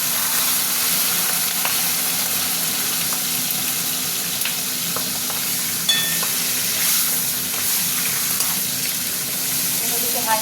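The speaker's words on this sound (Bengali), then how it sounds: "তেল গরম হয়ে গেছে, মাছগুলো দেবো। প্রথমে মুড়ো দিতে ভেজে নিচ্ছি।" Fish head sizzling in hot oil in a wok on a gas stove, a loud continuous frying hiss with occasional spatters and clinks, close and unbroken throughout.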